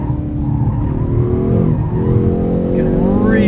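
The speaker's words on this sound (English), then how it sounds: "Riding out second gear to the red line here." A 2019 Hyundai Veloster N, front-wheel drive, revs up through second gear toward the redline, its engine note climbing loud and close, with tires squealing through a corner.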